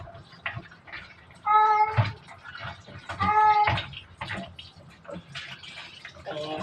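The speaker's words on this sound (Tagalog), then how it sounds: "Nananawag ang pusa, guys." A cat meows repeatedly, two long insistent calls close by, among kitchen sounds of running or dripping water and a person talking in between.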